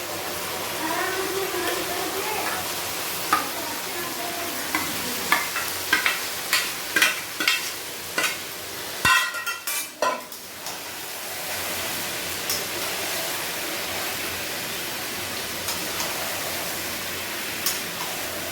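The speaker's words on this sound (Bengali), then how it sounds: "পেঁয়াজটা লাল হয়ে গেছে, এই মাংসটা আমি ঢেলে দিচ্ছি।" Chicken meat poured onto browned onions and stirred in a pan for chicken biryani, with a steady frying sizzle and a run of sharp utensil scrapes and clacks midway.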